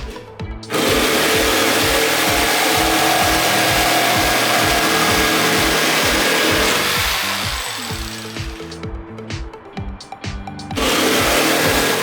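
A corded jigsaw fitted with a fast-cut blade runs at maximum speed with orbital action, buzzing loudly and closely with a rapid rhythmic chatter as it cuts through wood and briefly drops off mid-cut before resuming, with no talking.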